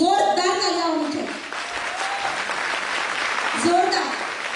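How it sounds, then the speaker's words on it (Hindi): An audience at a Women's Day celebration applauds for company CEO Sanjeev Kumar, a steady wash of clapping from many hands under someone speaking over a microphone. "मैं चाहूंगी कि उनके लिए जोरदार तालियां होनी चाहिए"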